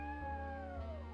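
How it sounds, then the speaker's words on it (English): A cat meows in a Nancy Drew mystery video game, a single drawn-out, slightly falling cry lasting about a second, clear and close with no talk over it. "The cat."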